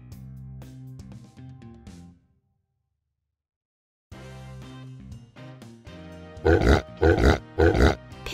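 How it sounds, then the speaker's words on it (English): A pig grunts and oinks in several loud bursts near the end, after a passage of background music and a brief silence. "Pig."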